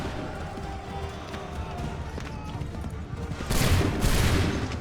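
Musket volley gunfire in the Assassin's Creed III video game: a steady background of battle noise, then a sudden loud burst of many shots fired together near the end.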